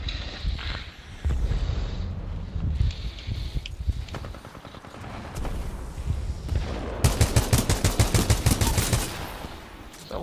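Rapid automatic gunfire from a Titanfall 2 multiplayer match starts in scattered shots amid footsteps and game noise, then swells into a loud, sustained burst of fast, evenly spaced reports near the end.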